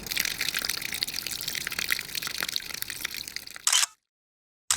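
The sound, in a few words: water pouring out of a cracked van water tank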